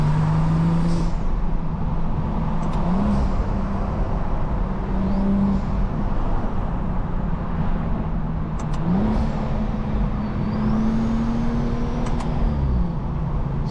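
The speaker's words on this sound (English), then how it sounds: "just listen to this turbo" A modified turbocharged car, a budget M2-style build, runs with its engine droning steadily and rising in pitch as it revs and shifts, with turbo whine and spool whistles on top, heard from inside the car without talk.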